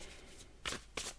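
Tarot cards are shuffled and drawn, giving two quick, crisp riffling bursts close by and fairly faint.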